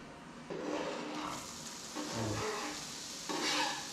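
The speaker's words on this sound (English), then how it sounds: "now you can put your onions in the oil" Oil sizzling and crackling steadily in a pan as onions fry for a korma, with a few louder bursts of sizzle and some stirring, no voices.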